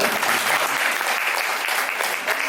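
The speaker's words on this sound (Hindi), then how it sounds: "तालियां बजा सकते हैं आप।" An audience at a Vedic scholar's spiritual discourse claps in a brief, dense burst of close, even applause, with no voices.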